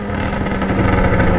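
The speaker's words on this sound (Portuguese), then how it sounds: "Esse escapão que pipoca, cê é louco, mano." A new motorcycle with a loud, large-bore exhaust rumbles close by, a dense, steady low growl with slight irregular pulsing and no clear separate pops, loud and alone.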